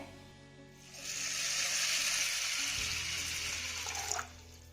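Water pours steadily into a vessel of washed jowar (sorghum) grains, a continuous close splashing stream that starts about a second in and stops just before the end.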